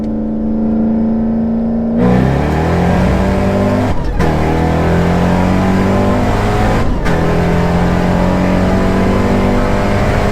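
An 800 rwhp Ford Mustang on Mickey Thompson Street R tires accelerates hard in a roll, its engine roaring loud and close with pitch climbing steadily through gears, two brief dips marking quick shifts before the revs rise again.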